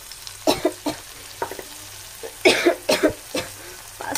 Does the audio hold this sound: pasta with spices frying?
yes